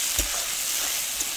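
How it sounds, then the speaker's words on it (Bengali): Chopped tomatoes frying with onions in hot oil for a boal fish curry: a steady, bright sizzle close by, with a couple of soft stirring knocks in the pan. "দিয়ে টমেটোটাও আমি ভালোভাবে ভেজে নেব পেঁয়াজের সাথে"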